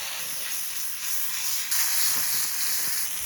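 Venison searing in a hot pan, a steady loud sizzle and hiss that swells a little partway through, with no voices over it.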